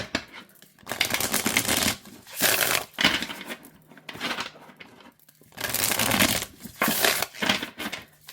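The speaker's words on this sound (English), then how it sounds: "Yeah, that is a nice shuffle. Okay. And overhand shuffle." Tarot cards are given an overhand shuffle in several quick bursts of crisp papery riffling, separated by short pauses, close and clear with no talking.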